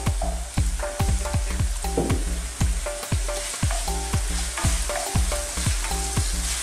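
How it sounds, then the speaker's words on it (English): Pork frying with reddened garlic and ginger for Bicol Express, a loud close sizzle broken by a rhythmic series of sharp spatula strikes against the pan, no voices. "Pwede na natin dagdag ang baboy pagka mapula na ang bawang at luya"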